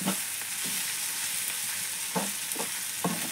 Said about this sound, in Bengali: আমি বারবার নেড়ে চেড়ে দিচ্ছি, আপনারা দেখতে পাচ্ছেন।